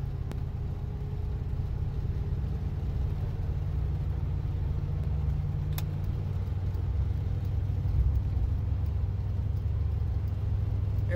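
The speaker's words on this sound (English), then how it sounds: "we're just going to do a little moderate acceleration up to highway speed into second gear there." A 1971 Cadillac Coupe DeVille accelerates moderately up to highway speed in second gear, a steady low engine and road drone heard from inside the car, loud and continuous with no talk.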